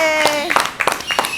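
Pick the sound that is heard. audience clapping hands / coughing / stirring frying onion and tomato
audience clapping hands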